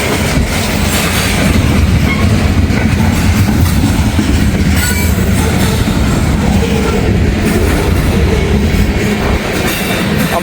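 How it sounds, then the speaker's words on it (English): Trains roll loudly past a railway work zone in high wind, heard from inside a truck, with a constant heavy rumble and rhythmic clickety-clack of wheels over rails throughout. "I'm sitting in my truck waiting on these trains"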